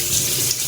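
Tap water runs steadily into a sink while galunggong fish are rinsed one at a time, a brief close hiss of flowing water.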